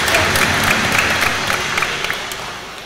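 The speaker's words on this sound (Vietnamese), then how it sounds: "Xin một tràng pháo tay để chúng ta cùng chào chúc nhau." A congregation applauds during a Catholic church service celebrating a choir's patronal feast, loud, dense clapping that fades gradually toward the end.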